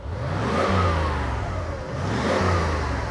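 An old Mercedes SEL 560 engine revs twice in quick succession, each blip rising and falling with a throaty exhaust note, loud and close with no talking.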